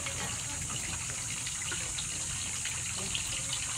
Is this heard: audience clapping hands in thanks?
no